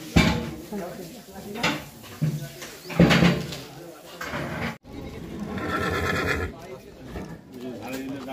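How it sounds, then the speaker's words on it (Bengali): A horse neighs among horse-drawn carriages in Murshidabad, mixed with clattering, busy crowd noise and people talking nearby. "মুর্শিদাবাদের বিখ্যাত হচ্ছে ঘোড়ার গাড়ি"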